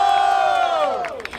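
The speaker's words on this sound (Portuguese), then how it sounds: "Barulho para as rimas do Mesuti!" Crowd at a street rap battle in Barueri, São Paulo, cheering and shouting in a loud, sustained roar that fades slightly toward the end, with a voice rising over the noise.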